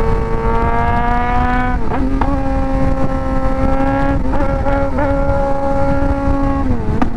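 A modified Suzuki GSX-R 600 sport motorcycle engine roars loudly and continuously at close range, holding a high steady rev with several sharp blips and dips in pitch, alone without talk.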